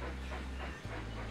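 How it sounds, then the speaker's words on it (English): A train running in the video game Railroad Tycoon 3, a steady low rumble with a hum of the engine that dips briefly and resumes, heard alone. "watch our train run here."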